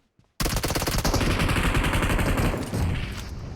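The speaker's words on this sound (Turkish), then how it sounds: "M249. Tamam sıkıntısız bir silah." M249 machine gun firing in PUBG Mobile, a loud, sustained burst of rapid automatic shots that begins abruptly and rattles continuously for about three seconds with no talk.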